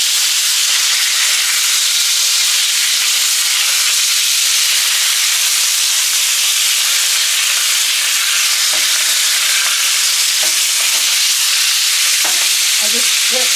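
Salmon fries in a pan after being flipped, a loud broad steady hiss of hot fat with a few faint clinks near the end, no speech.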